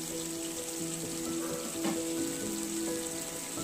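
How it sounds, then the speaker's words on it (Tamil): Paneer cubes frying in oil over a high flame for a restaurant-style capsicum paneer masala, giving a steady, continuous sizzle and crackle with no talk. "அந்தளவுக்கு நம்ம ஃப்ரை பண்ணி எடுத்துக்கலாம் ஆயிலில்"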